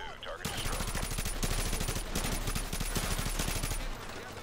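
Sustained rapid automatic assault-rifle fire in Call of Duty MW2, loud and close, with dense repeated shots running nearly four seconds before stopping abruptly.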